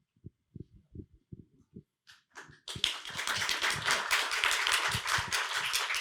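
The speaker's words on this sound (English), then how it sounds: "She deserved the applause." An audience at a climate forum on safe and ready communities breaks into applause, beginning with a few scattered claps that swell into steady, full clapping that carries on for several seconds.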